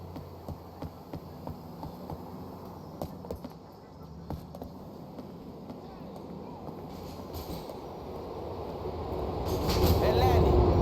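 A train in Grand Theft Auto IV rumbles along with rhythmic clicks of wheels over track joints, then swells into a louder roar toward the end, with voices talking over it.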